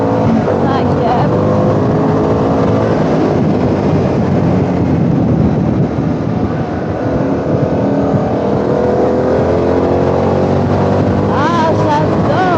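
A Harley-Davidson Pan America 1250 motorcycle in sport mode accelerates through the gears, its engine droning loud and continuous with rising pitch under wind noise, while a rider talks over it.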